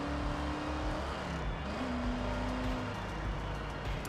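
A loud, undampened engine of an old truck in Forza Horizon 6 drones steadily and close, with a low hum that shifts in pitch as the revs change and no pause throughout.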